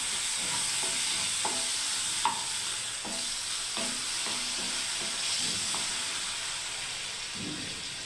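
Water goes into a pan of frying masala for a moong dal kofta curry, and a steady sizzling hiss continues throughout. Light scrapes and taps of stirring cut through the hiss, close up, with no talking.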